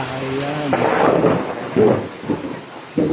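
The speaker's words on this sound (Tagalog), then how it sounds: "Ayan, mga idol, lakas ng ulan dito." Heavy rain pours down loudly and close by in a steady, hissing wash with deeper rumbling surges. Someone speaks briefly over it.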